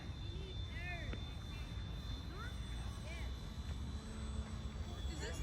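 A Hobbyzone Carbon Cub S2, a Horizon Hobby high-wing trainer bush RC plane, flies outdoors with a thin, steady electric motor whine, fairly faint and distant beneath constant wind and background noise.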